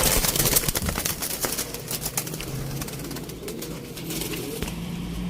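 Teddy pigeons in Sialkot coo in low, repeated murmurs, mixed with busy clicks, rustles and occasional wing flutters from a nearby loft.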